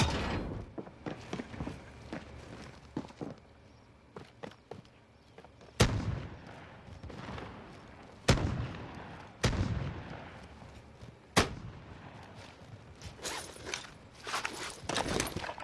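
Gunfire in Call of Duty Warzone: sharp single shots crack out at irregular intervals over quieter footsteps and handling clatter, with a faster cluster of shots near the end.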